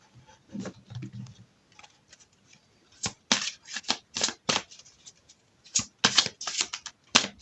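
Oracle cards, from a deck of the witch's wisdom, are shuffled and laid out in quick papery bursts, soft at first and then a run of sharper slaps and riffles near the table, with no talking.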